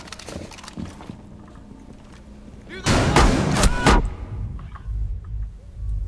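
Gunfire in the tactical shooter game Rainbow Six, Terrorist Hunt mode: scattered footsteps and clatter, then a loud rapid burst of shots lasting about a second, followed by quieter movement while players talk.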